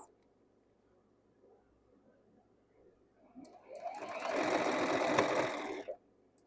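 A sewing machine stitches nested quilt block pieces for modern Tula Pink blocks, starting after about three seconds of quiet and running as a steady, loud mechanical whir for roughly two and a half seconds before stopping abruptly.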